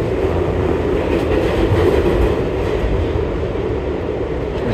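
An old New York subway car, a little over 25 years in service, rides along with a steady loud rumble and faint rhythmic wheel clatter from close inside the train.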